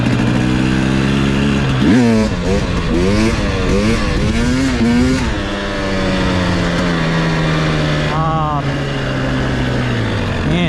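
A 2016 KTM 300 XC two-stroke dirt bike ridden hard, its engine revving up and down in sharp rising and falling bursts, then settling into a steady drone, close and loud.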